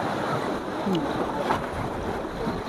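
Sea waves washing against the ghat steps in Dwarka, a steady rushing wash with mild surges and wind noise, close and continuous, with no one speaking.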